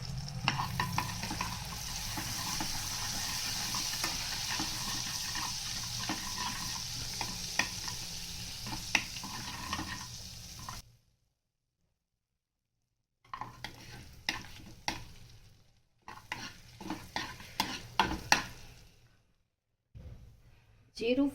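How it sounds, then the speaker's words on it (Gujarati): Whole spices, cloves, a piece of cinnamon, bay leaves and cumin seeds, sizzle and crackle in hot oil in a pan for a dhaba-style paneer dish, with steady frying, stirring scrapes and brief pauses, close and moderately loud. "2 નંગ તમાલપત્ર અને 1 ટીસ્પૂન જેટલું જીરું નાખશું।"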